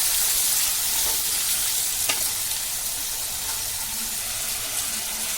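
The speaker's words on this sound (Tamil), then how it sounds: "அதில் எண்ணெய் விட்டு பட்டை லவங்கம் ஒரு ரெண்டு அப்புறம் வெங்காயம் தக்காளி நல்லா வதக்கணும்" Onion and tomato sautéing in oil with cinnamon and cloves, a dense continuous hiss of frying with one faint stir-like click, even and close throughout.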